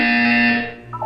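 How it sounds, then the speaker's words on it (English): Buzzer from the video game Portal 2, one loud flat electronic buzz that holds steady, then cuts off, with a faint tone following. "When you hear the buzzer, look down at the floor."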